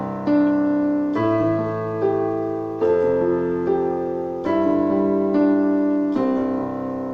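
Piano right hand playing sustained half notes over a held left-hand note, a few clear tones changing every second or so, close and alone without talk.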